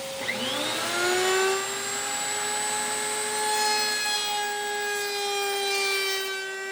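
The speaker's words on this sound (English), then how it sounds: "Then it's over the router table with a 1/8 inch roundover bit to clean up those edges." A router table with a 1/8 inch roundover bit shaping teak shelf edges, a loud sustained high whine with steady tonal harmonics that rises as the cut starts and holds through the pass, close and without talk.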